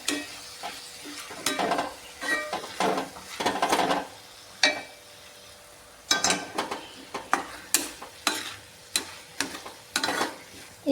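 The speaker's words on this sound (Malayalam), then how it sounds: "എന്നിട്ട് നന്നായിട്ട് ഇതിൽ കൂടെ നന്നായിട്ടൊന്ന് ഇളക്കി" Chopped tomato being stirred into chicken roast in a pan, a restaurant-style dish: a run of scraping, clacking spoon strokes in irregular bursts over a soft sizzle, close and fairly loud, no talking.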